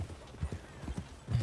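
Horse hooves clip-clop at a steady walking rhythm in Red Dead Redemption 2, a series of soft, close thuds with no talk over them.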